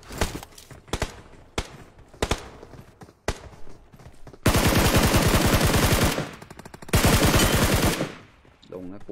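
Video game shooter gunfire: scattered single shots and short bursts at first, then long sustained automatic fire, close and loud, with brief pauses between volleys.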